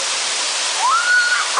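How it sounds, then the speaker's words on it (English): Freezing cold waterfall pouring steadily, a loud, close, unbroken rush with a thin high whine or whimper rising briefly over it near the middle. "about to enter freezing cold waterfall under a dare"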